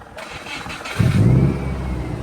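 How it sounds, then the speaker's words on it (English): A GC8 WRX engine cranks and fires up from a cold start, settling into a loud, rough low rumble that holds steady after the start. "So, give it a start. Bit of a cold start."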